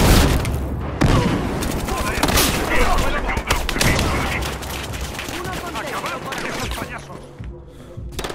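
A grenade blast amid a Battlefield firefight, heavy booms and rapid gunfire crackling densely over several seconds, with shouting voices mixed into the chaotic battle noise.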